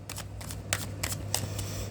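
Tarot cards are shuffled by hand in a steady run of soft, papery riffles, with about six close bursts repeating evenly over a low background hum and no voices.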